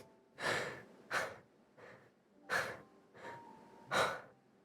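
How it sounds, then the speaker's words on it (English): A video game character pants in a steady run of breathy gasps, six distinct bursts in about five seconds, close and fairly loud with brief quiet gaps between them. "Why are you panting?"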